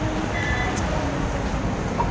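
Steady rumble and low hum of an LRT light rail train in Manila, heard continuously throughout at moderate level with no talk.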